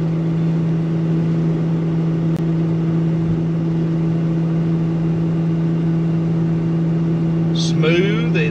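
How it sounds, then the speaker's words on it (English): Engine drone of a 1999 or 2000 Winnebago Rialta 22QD Class B motorhome on a Volkswagen chassis climbing a steep hill at about 45 mph, a steady loud hum heard from inside the cabin with a short squeak near the end. "we're right here at 45 miles an hour going up this steep hill."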